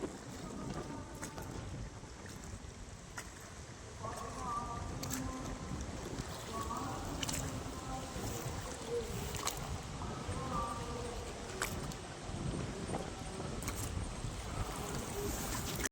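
Steady water and wind noise from a small rowing boat out on Sasthamkotta Lake in Kerala, with faint splashes of a paddle and distant voices now and then.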